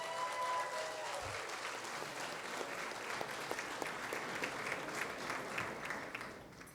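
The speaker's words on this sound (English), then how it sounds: "Let's give them a round of applause, please." An audience applauds at a charity event honoring rescued trafficking victims, steady dense clapping sustained throughout and close up, with no voices over it.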